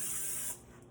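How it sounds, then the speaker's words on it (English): Cooking spray hisses from a can onto a pan in one short burst of about half a second, close and loud, then cuts off. "spray this pan"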